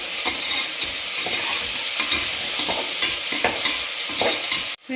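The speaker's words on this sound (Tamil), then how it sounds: "இப்போது குக்கரில் பார்த்துடலாம். வெங்காயம் நல்லா வதங்கி வந்துட்டுருக்கு." Onions sautéing in oil inside a pressure cooker, a loud, constant sizzle broken by rhythmic scraping and stirring strokes close by, ending in a sudden knock.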